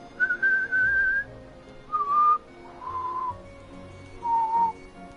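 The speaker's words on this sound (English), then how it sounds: "Whistling is this." A person whistles four separate sustained notes, clear and close, with brief pauses between them.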